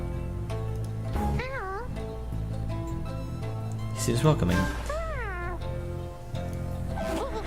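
The Drive-Imp creature in the video game Pyre lets out warbling, cat-like calls and screeches, repeated several times over a music bed while a voice talks over it.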